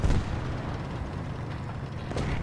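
A firework-like shell burst in the War Thunder game, a dull rumbling blast with a low crackling tail that stays steady and fairly loud for about two seconds, with no voices.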